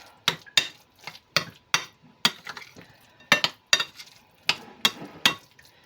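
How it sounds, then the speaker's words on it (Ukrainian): Spoon clinking and scraping against a bowl while tuna pâté salad is stirred, a steady series of sharp, close knocks with soft mixing between them and no talk. "перемішуємо цей салатик"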